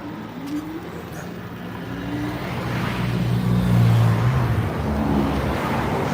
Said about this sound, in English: You can't be driving on the sidewalk